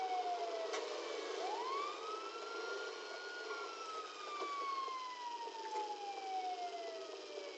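A police car siren wails in GTA Online, its tone rising and sweeping in long smooth glides, steady and fairly close over a low engine hum, with no talking.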